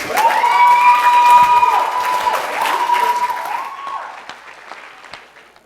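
A wedding crowd claps and cheers for the Borks, with loud applause and whoops under several sustained tonal notes, tapering off toward the end.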